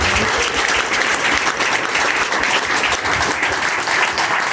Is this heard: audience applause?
yes